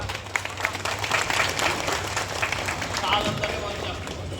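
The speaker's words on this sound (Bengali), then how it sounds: "একটা জোরে হাততালি হোক" A crowd at a political rally in Kolkata breaks into dense, sustained applause, many hands clapping together at moderate distance while a voice carries over the noise.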